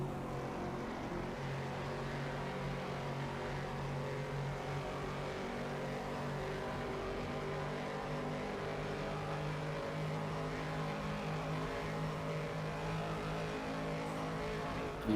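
A Bizzarini race car engine in the GTC Legends sim racing game: a steady, faint, continuous engine drone with no clear revving peaks, running unbroken throughout.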